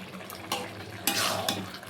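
Taro leaves (kochu shak) are stirred in a pan, a spatula scraping in a few distinct strokes over a soft background sizzle, close and moderately loud.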